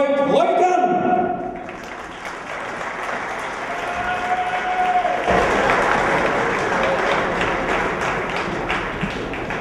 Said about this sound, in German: Applaus für Sportfreund Reutern!